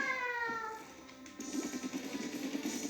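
A cat meows in Splatoon 2: a short, tonal mew followed by a longer, wavering one, fairly faint with a synthetic, game-like quality.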